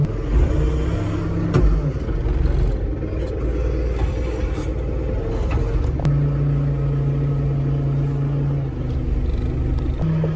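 A forklift loads hay bales onto a trailer on a farm, its engine rumbling and humming steadily nearby with a brief tonal whine and occasional light scrapes, no one talking.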